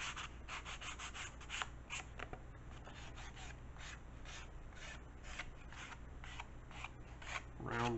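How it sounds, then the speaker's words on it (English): Light hand sanding of a wooden workpiece, a steady close scratchy rubbing with repeated back-and-forth strokes continuing throughout, with no speech. "You can give this a light sanding."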